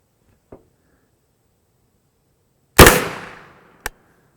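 A single sharp, loud gunshot from a 16-inch 9mm pistol-caliber carbine firing 135-grain Federal Hydra-Shok Deep hollow points, with a quick decaying outdoor echo, a faint click before it and a brief knock after.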